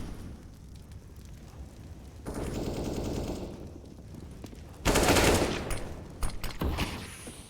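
Rifle fire rings out during a professional Counter-Strike: Global Offensive match on the Ancient map, with scattered shots building into rapid bursts and a loud, dense volley near the middle, followed by sharp single cracks.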